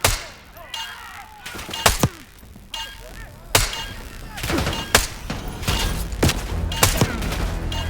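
A gunfight in Call of Duty: Black Ops 6 crackles with repeated sharp shots in irregular bursts over dense battlefield noise, some blasts near and loud, others sparser, with faint voices mixed in.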